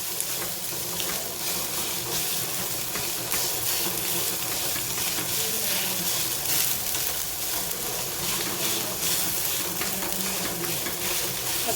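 Onion softens in a pan for a tondli (ivy gourd) vegetable dish while being pressed down, producing a continuous even frying hiss that runs unbroken throughout, with no voices.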